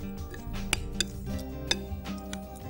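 A few light clinks of a utensil against a dish as ingredients for paneer butter masala are mixed, set over steady background music and a low hum.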